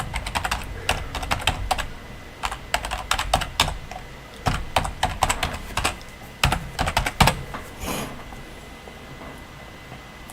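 Rapid, irregular keystrokes on a computer keyboard while an email address is entered, bursts of clicks with short pauses, close and clear with no voices.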